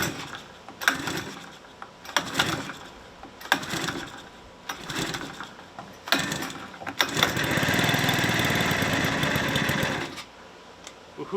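A cheap $300 eBay outboard boat motor sputters through several short bursts about a second and a half apart, then catches and runs steadily for a few seconds before dropping off, loud and close.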